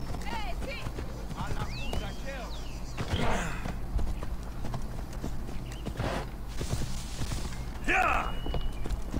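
A horse's hooves clatter in steady clip-clop rhythm as it runs in Assassin's Creed Odyssey, loud and continuous across the stretch, with game effects and a brief whinny-like sound layered over the footfalls.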